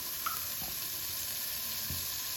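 Butter melting for homemade ghee with a pinch of salt and turmeric, sizzling softly and steadily in a pan, with a few faint stirring clicks and no voices.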